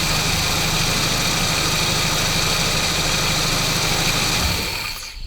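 A 1986 Volkswagen Scirocco Mark II engine idles steadily after tuning, a continuous close, even drone with low rumble that fades slightly just before the end.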